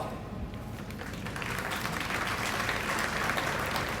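Applause rises from the crowd at a Pakistan Military Academy passing-out parade, a sustained wash of distant clapping that swells slightly and stays even throughout.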